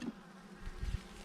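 Honey bees buzz at the entrance of an outdoor hive in January, a faint, brief, close drone with a couple of slightly louder swells as bees pass by.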